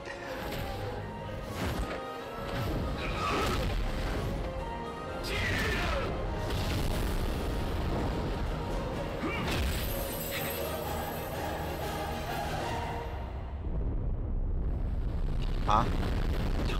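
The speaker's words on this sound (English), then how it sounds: "He caused a volcanic explosion." A video game volcanic explosion rumbles and crashes in a dense, continuous roar with scattered booms and impacts, loud and sustained, while people talk over it.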